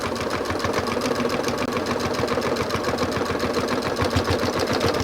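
A sewing machine stitches steadily across quilt fabric, a loud, continuous, rapid rhythmic whir with an even mechanical pulse, close up and with no talking.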